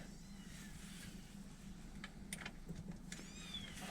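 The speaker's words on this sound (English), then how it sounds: "we have some kittens living up front, and they are chatty" Kittens meowing faintly from a distance in short, high, rising calls scattered over a few seconds, heard above a steady low hum in a garage where a vintage General Motors manual transmission is being worked on.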